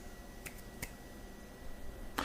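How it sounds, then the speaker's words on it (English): Three faint, dry finger snaps come at irregular intervals against quiet room tone, the last one slightly stronger, with no talking. "I can't snap my fingers"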